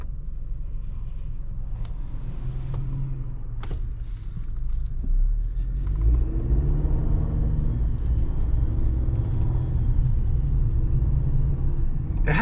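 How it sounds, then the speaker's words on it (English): Chevrolet Silverado with a 2.7L high-output turbocharged four-cylinder accelerating on a test drive, a steady cabin rumble swelling into a rising engine drone with a faint whine and turbo spool building over it. "as you're accelerating, you hear like a wee, like noises like that. A little bit of turbo spool"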